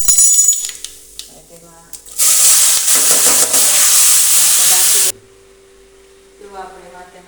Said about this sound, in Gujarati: તો હવે તેમાં રાઈ જીરું મરી નાખી દેવું અને લીમડો